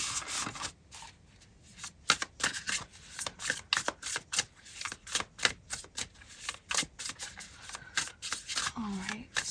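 Tarot cards are shuffled in a long run of rapid crisp riffles and flicks with a steady, pulsing rhythm, close and fairly loud, followed by a brief vocal sound near the end.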